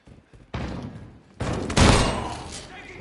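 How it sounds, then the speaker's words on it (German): Grenade blasts in a Call of Duty Modern Warfare 2v2 match: loud, broad booms hit in quick succession, the last and heaviest trailing off into a fading rumble. "Ich hab eine Granate nach oben geworfen."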